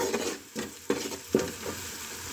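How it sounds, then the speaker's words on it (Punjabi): Potatoes with spices stirred in a pan, a spoon scraping in several distinct strokes over a steady sizzling hiss, close and fairly loud, with no voices. "ਹੁਣ ਅਸੀਂ ਚੰਗੀ ਤਰ੍ਹਾਂ ਹਿਲਾ ਲਾਂਗੇ ਤਾਂ ਜੋ ਸਾਡਾ ਸਾਰਾ ਮਸਾਲਾ ਇਹਦੇ 'ਚ ਮਿਕਸ ਹੋ ਸਕੇ"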